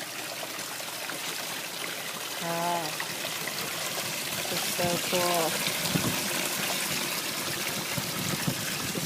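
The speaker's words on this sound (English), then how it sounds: "And listen to that water." Water trickles and splashes steadily in a backyard deck waterfall, a moderate, continuous babbling close by, while a person speaks briefly over it.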